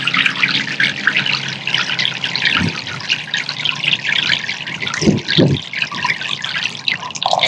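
Water trickling and dripping steadily down through a stacked GreenStalk strawberry planter as the top tier drains into the next, a close continuous burble with a few soft thumps.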